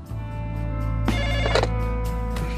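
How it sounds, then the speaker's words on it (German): Telephone ringing at night, a loud electronic ring that sounds continuously and swells slightly in the middle before easing, heard alone with no talking. "Um 1 oder 2 Uhr nachts läutete mein Telefon."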